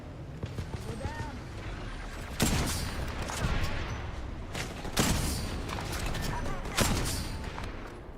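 Apex Legends gunfire crackles in sharp bursts over a steady battle din, with several loud volleys standing out and voices talking throughout.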